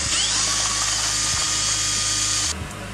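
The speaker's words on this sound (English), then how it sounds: "I'm gonna try to use the drill as a lathe, see how well I can clean up the end." A power drill runs steadily, used as a makeshift lathe to clean up the end of a 3D-printed clock gear, giving a continuous high whine with a steady motor hum that drops off near the end.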